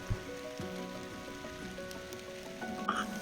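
Rain patters on surfaces during a climb of Mount Kembang in Central Java, a soft continuous hiss with a few sharp nearby drops; a faint low rumble of distant thunder may sit underneath.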